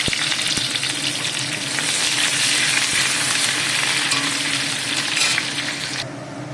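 Onion dropped into hot mustard oil hisses in a dense, loud, steady sizzle that eases slightly toward the end.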